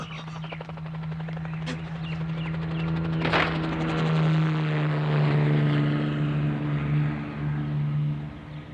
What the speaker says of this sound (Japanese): あれは敵のパトロールヘリです